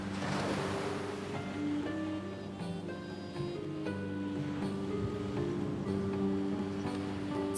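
Steady surf washes continuously onto a white-sand beach in Oman beneath soft tonal music, a constant ocean hiss with no voices.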